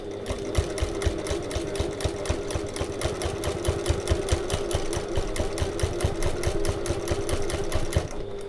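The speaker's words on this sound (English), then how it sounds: "So all I'm going to do is just do a couple of little rows of stitching here, nice neat stitching, just to secure this into place." Sewing machine stitching neat rows to secure a bag strap, a fast, even mechanical chatter of needle strokes running continuously and close, with a steady motor hum underneath and no talking.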